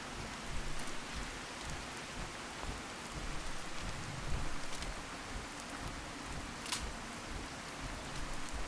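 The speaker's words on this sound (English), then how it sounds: "That was some pretty lightning." Steady rain pours across a thunderstorm in the Fallout 4 video game, with faint rolling thunder beneath a dense, even hiss and a few brief crackles, with no voices.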